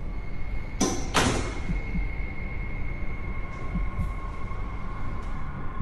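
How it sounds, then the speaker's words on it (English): Indoor hallway door noises: a couple of sharp bangs or clanks from a door slamming, with broadband bursts early on, over a steady hum and low rumble, with fainter knocks later and no talking. "Out in the hallway, you can hear whining and slamming."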